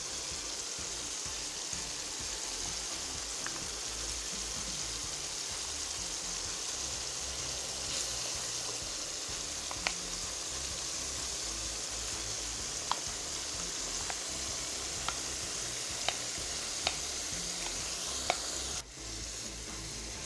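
Chicken for dhaba-style achaar gosht frying on full flame, with a steady, close hiss and crackle and scattered sharp pops and a few clinks as it is stirred, with no talking.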